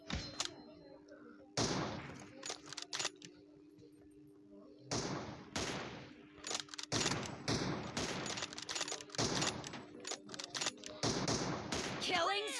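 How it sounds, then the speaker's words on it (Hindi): Gunshots in an online shooter game come in sharp bursts and rapid volleys separated by brief lulls, loud and close, with a voice talking over some of them. "ये क्या शॉट लग रहे हैं यार"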